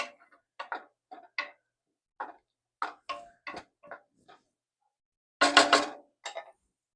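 Irregular clinks and taps of a spoon stirring a mixture with dill and lemon zest in a bowl, about a dozen separate knocks with pauses, ending in a louder scraping burst.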